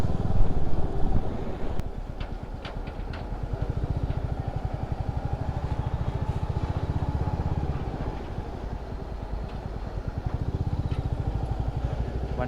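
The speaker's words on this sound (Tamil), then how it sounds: "ஆனால் எக்ஸாஸ்ட் சவுண்டு பார்க்கணும், செம்ம சவுண்டு." Motorcycle exhaust during a group ride, a steady pulsing engine drone that stays loud and close throughout, with brief revving bursts early on and no talk.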